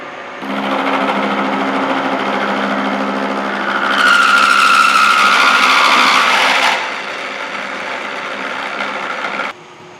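Milling cutter taking a single pass across a straight edge casting: a loud, steady machine whine and hum, rising into a harsher cutting tone for a few seconds midway, then settling before stopping.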